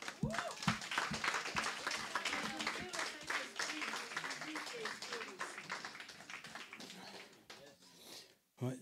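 Church congregation applauding, a burst of close clapping that thins out over several seconds, with people talking through and over it.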